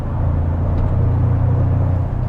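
A 2024 Toyota Tacoma TRD Pro pickup engine in sport mode: a steady, deep rumble with a low growl, continuous and fairly loud throughout, close by.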